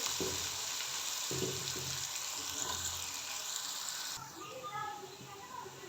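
Garlic and onion frying together in a pan until light golden, a steady dense sizzle that stays loud throughout, with a few stirring clatters and a voice talking over it.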